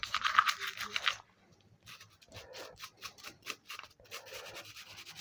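Scrubbing strokes on Colt 1911 .45 ACP pistol parts during cleaning, a dense brushing burst at first, then quieter, rhythmic rubbing strokes that continue steadily to the end.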